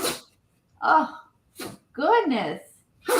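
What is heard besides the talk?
dog sneezing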